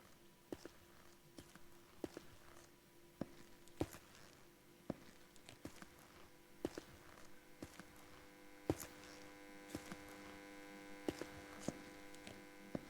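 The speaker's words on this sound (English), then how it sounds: "we just get that little spooky hum from that light" A faint, steady electrical hum from a light in an Unreal Engine game scene drones beneath intermittent footsteps that click and tap at an irregular pace.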